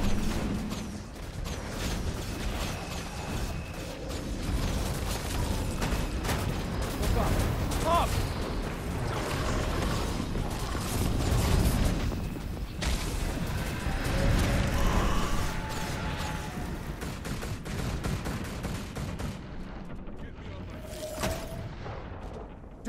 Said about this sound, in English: Get those flak cannons firing.